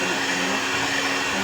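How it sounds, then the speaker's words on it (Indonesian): An electric mixer kneads tangzhong bread dough for soft pull-apart rolls, a loud, steady motor whir that holds evenly through a short moment. "lanjut kita nyalakan mesinnya, kita mixer selama 5 menit sampai setengah kalis"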